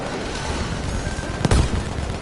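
A tank blown up in Battlefield 5 gameplay: a sudden heavy boom bursts out over dense, constant battlefield gunfire and rumble, loud and close.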